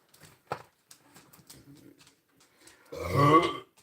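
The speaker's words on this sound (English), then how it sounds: "I didn't burp on my wife's food" A man burps once, a loud, low, drawn-out belch while making a sandwich at home, following a few soft handling clicks and quiet movement sounds.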